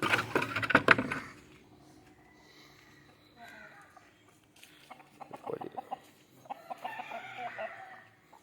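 Native country chickens clucking and squawking as they leave their coop in the morning, a loud flurry at first, then scattered calls; people talk quietly in between.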